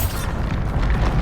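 A Bombarda spell explosion in Hogwarts Legacy, a loud, heavy boom with a dense rumbling body that rolls on without a clear end.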